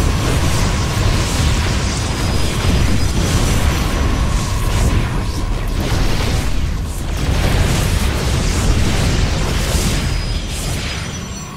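Buildings blow up in the real-time strategy game StarCraft II, a dense, loud roar of overlapping explosions and crashing bursts that continues without a break throughout.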